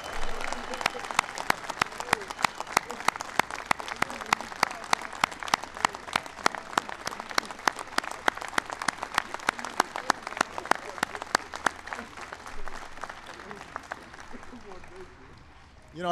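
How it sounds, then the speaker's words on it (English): Sustained applause from a large crowd at a White House event honouring wounded warriors and the Super Bowl champion Giants, dense steady clapping for about fourteen seconds before tapering off. "Let's give them all a big round of applause."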